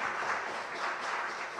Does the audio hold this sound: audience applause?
yes